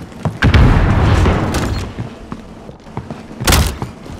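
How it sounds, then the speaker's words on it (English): Stun grenade detonations in Call of Duty: Modern Warfare Warzone land as heavy, booming thuds, a big blast early followed by scattered smaller thumps and another sharp crack near the end, loud and close. "Stun grenade out."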